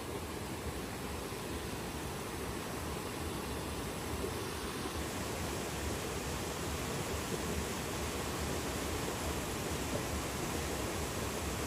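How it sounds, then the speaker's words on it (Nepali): Floodwaters of the swollen Sardu river rush past in a steady, dense roar, loud and continuous, with no voices over the churning water. "र यो अहिले सर्दु खोला यसरी उर्लेको छ"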